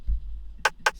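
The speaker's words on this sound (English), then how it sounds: "Then I've got this rim perk here." Rim percussion sample from a beat: two short, bright clicking hits spaced evenly apart near the end, alone after a soft low thump at the start.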